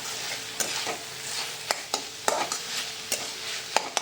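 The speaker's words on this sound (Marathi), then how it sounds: "छान अलटी पलटी करूया आणि फ्राय करूया तिला." Capsicum (shimla mirchi) dry sabji is stirred and fried in a home pan: a steady close sizzle under a series of sharp spatula scrapes and taps, irregularly spaced, with no talk.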